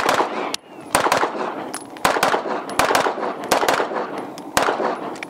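Rapid pairs of sharp pistol gunshots crack out from a compensated competition pistol, loud and close, with short gaps between each double over a faint outdoor background.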